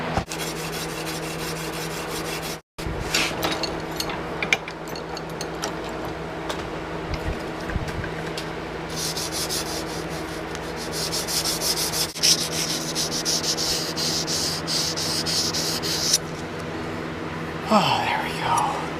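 Hand sanding the unground false edge of a large one-piece forged bowie knife blade: steady, continuous scraping rubs close up, nearly unbroken for the whole stretch apart from one brief pause, with a faint hiss and light background noise.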